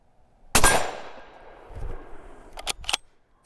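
A single loud, close suppressed rifle shot in 7mm PRC fired through a Silencer Central Banish Backcountry suppressor, a sharp crack with a decaying tail, then a few lighter knocks and clicks of the rifle being handled.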